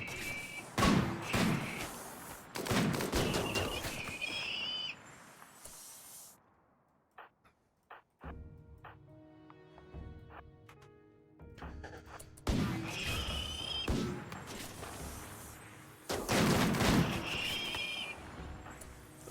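Bursts of gunfire in the RimWorld video game: dense clusters of rapid shots at the start and end, separated by a quieter stretch of sparse, scattered pops and thuds.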